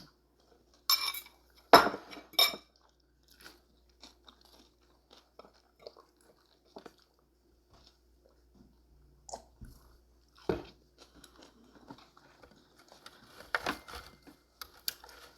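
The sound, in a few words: eating and chewing papaya salad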